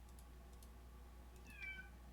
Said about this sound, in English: My cat's yelling, so if anybody can hear my cat yelling, I'm sorry.